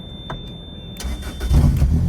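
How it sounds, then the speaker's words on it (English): A 2005 Lotus Elise's engine is started with its push start button: a steady electronic whine, then the starter cranks briefly and the engine catches into a louder, rumbling idle close by. "just hold down that start button and it will start right up"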